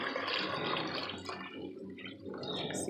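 Shrimp broth pouring into a stew pot with potatoes and smoked sausage, a steady close liquid splash and gurgle that thins and steadies partway through, continuous for about three seconds with no talking.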